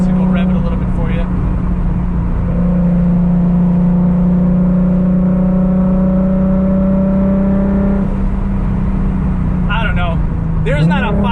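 An Audi RS3's five-cylinder engine on a side street holds a steady, loud, close drone at raised revs, then falls away near the end, with a voice talking over it at times.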